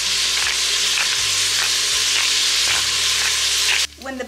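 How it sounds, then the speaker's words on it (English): Six slices of chopped bacon fry in an Instant Pot on the sauté setting, giving a loud, steady sizzle with crackling grease pops throughout, then cutting off near the end into a brief lower clatter as a splatter cover is pulled down. "When the bacon grease is popping"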